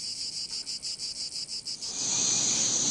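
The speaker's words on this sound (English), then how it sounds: "the cicadas are coming, and it won't be long before we'll be asking the insects to turn down the volume" Periodical cicadas buzz in a loud, high, pulsing drone that settles into a continuous shrill whine.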